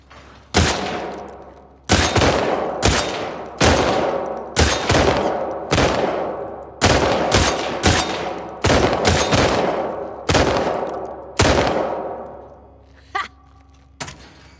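A gun firing a full magazine in The Last of Us Part II, about a dozen loud, evenly paced single shots ringing out one after another, each with a sharp crack and a decaying echo, ending in a couple of lighter mechanical clicks.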